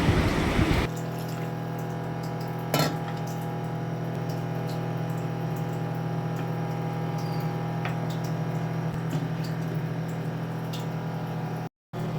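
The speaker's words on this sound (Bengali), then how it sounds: "এখন আমি দেব পরিমাণ মতো জল" Water poured into a spicy koi fish curry starts with a brief, loud splashing gush, then gives way to a steady low simmering hiss with one faint clink, and no one speaks.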